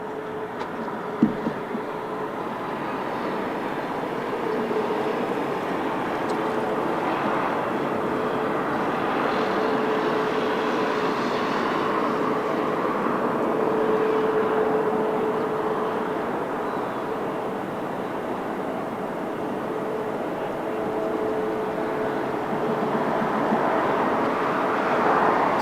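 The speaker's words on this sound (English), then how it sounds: "That was an interesting landing of BA." A British Airways airliner landing at Lisbon Airport gives a steady, broad jet roar at mid distance that swells and eases slightly over its length, with a faint whine running through it.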